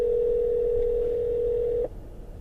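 A telephone dial tone sounds as a call is placed, a loud steady single tone that cuts off abruptly near the end, followed by a faint line hum.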